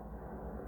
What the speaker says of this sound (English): but sometimes we have the helicopter. Excuse the noise